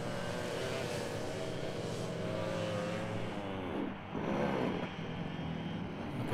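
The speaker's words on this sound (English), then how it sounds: "I can hear an engine in the background grind to a halt and stall" A kart engine drones and rumbles in the distance, its pitch sweeping down and wavering as it labors, grinds to a halt and stalls amid steady noise during a heavyweight sprint kart race at Glan Y Gors.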